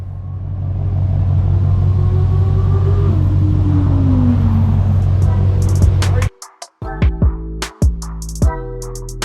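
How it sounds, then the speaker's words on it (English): A 2020 Shelby GT500 in Rapid Red with black stripes, its exhaust holding a steady deep rumbling idle with a slight rev, then cutting off, followed by a few close clicks and knocks. "Let's take a listen at the exhaust."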